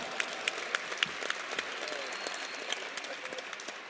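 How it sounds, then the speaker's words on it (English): A crowd at a university event introducing a new head football coach claps warmly, with individual hand claps standing out over a soft, steady bed of applause at moderate distance. "So give her a warm round of applause"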